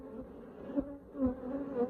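Honey bees buzz steadily around an opened hive during a colony check, a soft continuous drone that swells slightly in a few places, fairly quiet and close.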